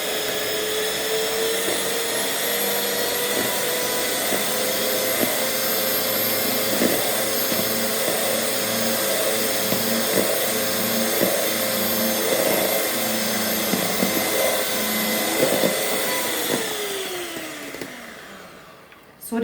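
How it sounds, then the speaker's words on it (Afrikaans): An electric hand mixer whisks two egg whites to stiff peaks with a loud, steady whirring whine that runs almost unbroken and then cuts off near the end. "En nou gaan ons gou daai 2 eierwitte net gou styf klits"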